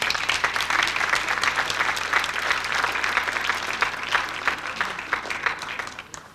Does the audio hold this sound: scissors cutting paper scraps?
no